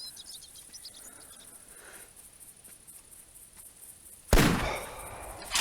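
A single sharp .243 rifle shot at a whitetail buck in theHunter Classic, a loud crack with a short decaying tail, breaking a quiet outdoor ambience of chirping insects.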